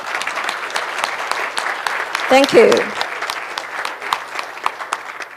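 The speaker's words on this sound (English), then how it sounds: "Please join me in a round of applause for these speakers." A seminar audience at a geopolitics conference applauds the speakers with steady, moderately loud clapping, while someone briefly speaks over it partway through.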